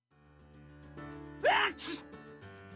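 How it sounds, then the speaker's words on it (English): A single sneeze from a character in the visual novel game Baldr Sky, preceded by a sharp breathy gasp, heard close and fairly loud over a quiet sustained musical background. "As I sneeze, dandelion fluff flies out of my nose."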